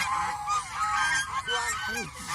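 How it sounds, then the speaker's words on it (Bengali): Several domestic geese honk repeatedly, their nasal calls overlapping in uneven bursts at moderate distance over a steady background hum. "এই যে আমার যে হাঁসগুলো দেখা যায় দেশি"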